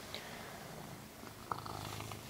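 A pet cat purrs softly close by in a quiet indoor room, a low steady rumble running through the short stretch with a faint click partway through.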